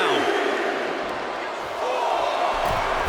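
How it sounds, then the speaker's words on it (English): Arena crowd noise from the WWE 2K25 wrestling game during Randy Orton vs. Bron Breakker, a steady loud roar of cheering that dips briefly midway, with commentary talk over it. "Bron Breakker getting the crowd riled up right now."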